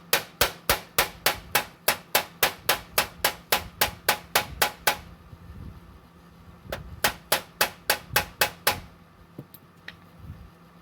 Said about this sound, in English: It kind of jars it. Knocks all the rust loose.